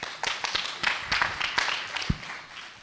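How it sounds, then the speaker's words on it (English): Audience applause for a panelist at a luxury-brands conference panel session rises as a scattered patter of claps, moderately near and not very loud, lasting a few seconds. "Can we have a round of applause for Yvon, please?"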